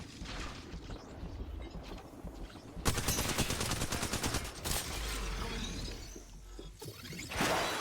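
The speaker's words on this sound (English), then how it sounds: "He's shooting with an alternator, of course." Alternator gunfire in a video game: rapid bursts of automatic fire with sharp cracks and shattering impacts, loud and near, running in dense stretches across the clip with short gaps between volleys.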